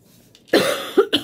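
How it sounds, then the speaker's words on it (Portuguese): A woman coughs while tying a grosgrain ribbon bow, a short burst of two or three close, dry coughs after a brief quiet lead-in. "Hoje eu tô tossindo."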